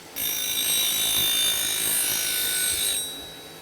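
A negative rake woodturning scraper being sharpened, likely on a grinding wheel, giving a steady high-pitched whine with a bright ringing edge for about three seconds before stopping, with no talk.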